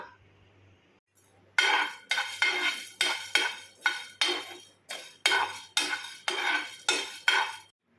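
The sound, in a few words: urad dal dry-roasting and stirring in a pan without oil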